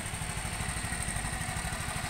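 A motorcycle idles steadily while warming up before a ride, with a close, even, low chugging pulse and a light mechanical clatter. It carries on without pause or speech.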